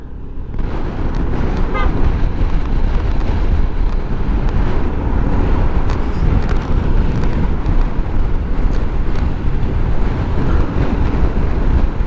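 Strong wind after Typhoon Karding batters the microphone near the Labi River with Sierra Madre mountains in view, a loud, continuous rumbling buffet that never lets up.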